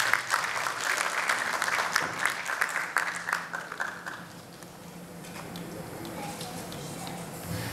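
Audience applause welcomes a guest onto the stage at an audio cassette launch event, loud clapping that fades after about four seconds into quieter room noise with light voices.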